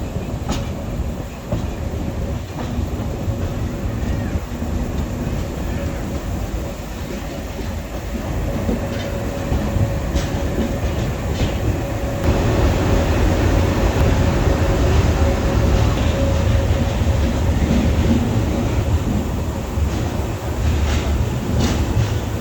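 A 22702 Uday Express double-decker train runs between Vijayawada and Visakhapatnam, its loud steady rumble and rattling wheels continuous and close throughout, swelling slightly partway through, with no talking.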